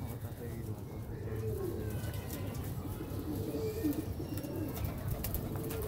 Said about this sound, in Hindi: सबसे पहली बात है जो कबूतर ना उड़े ये रखते ही नहीं है